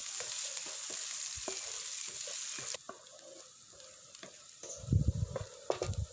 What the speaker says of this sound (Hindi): अदरक लहसुन के पेस्ट और प्याज को मज़ीद 2 मिनट के लिए अच्छी तरह पका लेंगे।